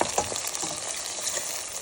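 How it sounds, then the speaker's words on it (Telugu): A blended curry paste for chana curry fries in a pan of oil with cloves, cardamom, cinnamon and bay leaf, producing a close, continuous crackling sizzle with light stirring throughout. "ఇప్పుడు దీన్ని ఫ్రై అవనిద్దాం"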